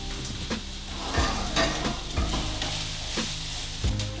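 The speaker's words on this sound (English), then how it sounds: "We add the vegetables and stir it up with a spatula." Vegetables sizzle in a heated pan while an old wooden spatula stirs them, with soft rhythmic scraping strokes roughly every second over a constant close frying hiss.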